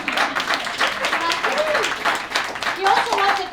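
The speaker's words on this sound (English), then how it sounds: "applause break" Applause and a few cheers from a comedy show audience, lively clapping under the comedian's voice as she talks over it.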